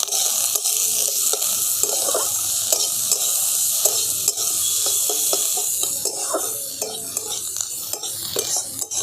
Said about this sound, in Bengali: এই গাজর আর ক্যাপসিকামটাকে আমি অল্প একটুখানি ভাজা ভাজা করে নেব।